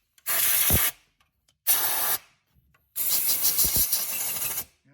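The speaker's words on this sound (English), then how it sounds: "now what you want to do is blow out around each spark plug" Compressed air blows out around the spark plugs of a 2016 GMC 1500 5.3L engine in three loud, close hissing bursts: two short blasts and then a longer one, with nothing heard between them.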